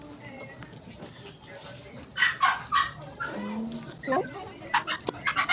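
A small puppy gives a run of high yips and barks with thin whimpers in between. It is close and moderately loud, with a person speaking quietly nearby.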